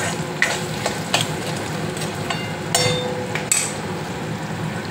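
Cashews sautéing in a pan for a paneer gravy, a steady sizzle of frying with sharp knocks of a spoon stirring against the pan, close up.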